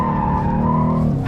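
A Ford Mustang on a race track slides into oversteer, its tires letting out a loud, sustained squeal with the engine droning underneath.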